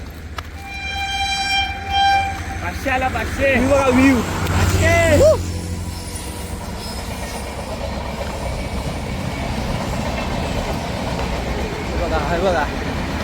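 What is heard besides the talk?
passing train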